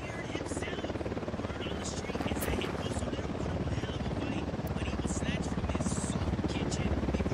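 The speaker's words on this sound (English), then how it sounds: "Chopper incoming." A helicopter's steady rotor drone and buzzing engine fill the scene, loud and close, with scattered game effects layered over the noise, from the video game Ghost Recon Wildlands.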